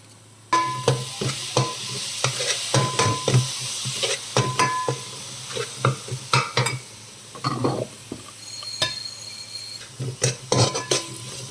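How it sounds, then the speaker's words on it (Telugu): Fenugreek, coriander and cumin seeds dry-fried in a pan, rapid rattling scrapes and clinks of a spoon against metal over a faint sizzle, busy and close with brief pauses. "కొంచెం మెంతులు ఫ్రై చేసుకుందాం కొంచెం ధనియాలు కొంచెం జీలకర్ర ఈ మూడు ఫ్రై చేసుకొని పౌడర్ చేసేసుకుందాం"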